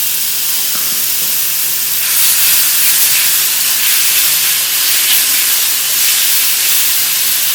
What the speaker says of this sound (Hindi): हम 1 टेबल स्पून हम इसमें ऑयल डाल रहे हैं और इसके अंदर हम 1 टेबल स्पून डालेंगे लहसुन पिसा हुआ।